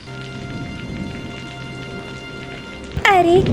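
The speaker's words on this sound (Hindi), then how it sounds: "कितना बढ़िया बारिश हो रहा है" Rain falls in a Hindi cartoon with a soft, steady patter beneath quiet background sound, then a sudden brief burst of a louder swooping effect near the end.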